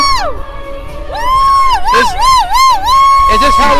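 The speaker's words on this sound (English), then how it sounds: "Closing our eyes and dancing and screaming." Protesters scream, whoop and cheer together at a street protest, a loud dense crowd of rising and warbling voices that swells and wavers continuously throughout.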